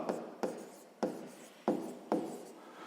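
Pen on paper, five quick writing strokes in an even rhythm, each a sharp scratch that fades, recorded close and alone during a sixth-grade math exercise.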